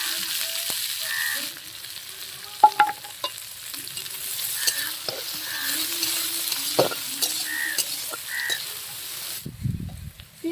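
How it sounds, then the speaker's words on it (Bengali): Chopped onions fry and crackle in a pan, a continuous close sizzle with intermittent scrapes and clicks of stirring, ending in a brief low thump. "আমি দিয়ে দেবো পেঁয়াজ কুচি।"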